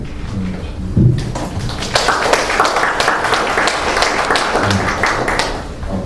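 A room full of people applauds, a dense steady patter of clapping that carries on for several seconds.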